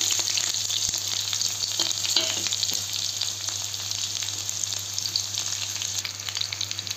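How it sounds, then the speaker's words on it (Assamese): Onions fry in a pan, producing a steady dense sizzle with faint stirring clicks, heard up close against a constant background hum and without any talking. "এইখিনি অকণমান ভালকৈ ভাজা হওক"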